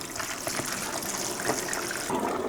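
Water gushes and trickles steadily while a red tilapia is rinsed after being scrubbed with coarse salt, a soft, continuous splashing with no talking.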